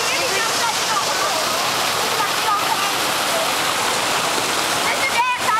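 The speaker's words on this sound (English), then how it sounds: "I don't know about that waterfall." Waterfall at Little Missouri Falls roars in a dense, continuous close rush of falling water, while people talk over it.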